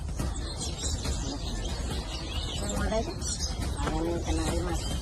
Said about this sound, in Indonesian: sejumlah burung dilindungi kami temui bebas diperjualbelikan di pasar burung